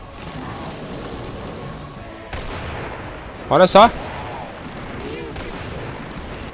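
Gunfire in Resident Evil 4 booms in a few heavy blasts during the Salazar boss fight, one especially loud burst in the middle, while someone speaks briefly over the action.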